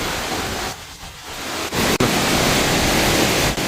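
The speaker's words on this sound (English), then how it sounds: "so let's go into the waterfall." Steady broadband roar of a jungle waterfall in Peru, loud and continuous at close range with no voices, briefly dipping once before surging back.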